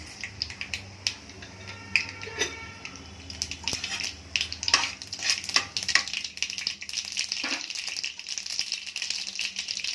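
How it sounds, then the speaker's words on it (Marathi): Mustard seeds spatter in hot oil during tempering for a methi sprouts sabzi, giving irregular crackling pops and sizzles that grow busier over time, with no talking. "तर आता मोहरी टाकून घेऊया थोडीशी"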